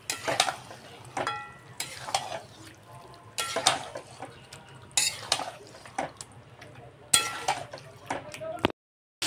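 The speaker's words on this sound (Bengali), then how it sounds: "এবার আমি চিকেনটা দিয়ে দেবো। ভালো করে এবার আমি কষিয়ে নেব।" Chicken stir-fried and browned in a pan for a Bengali chicken curry, with repeated scraping and stirring strokes over a steady sizzle, close and fairly loud, clattering in bursts before a brief silence at the end.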